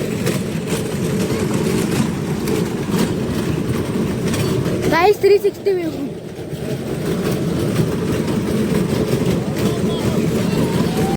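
A small toy ride train runs through a garden park, a continuous rattling rumble of wheels and cars with a sharp squeal or clatter at mid-clip, while a person talks briefly over it.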